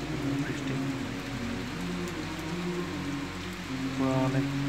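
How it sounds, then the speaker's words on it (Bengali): Heavy rain pours down steadily, a dense, loud hiss of drops drumming on surfaces, with a low hum running underneath and no voices. "পুরো অনেক জোরে বৃষ্টি নামছে এখন।"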